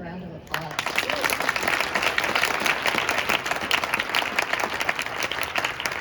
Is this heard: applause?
yes